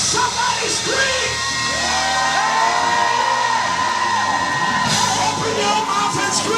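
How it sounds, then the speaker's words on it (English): A church congregation screams, yells and whoops together during a ten-year anniversary service, a loud, dense, sustained wall of crowd voices with scattered shouts rising above it. "Open your mouth and scream for 20 seconds."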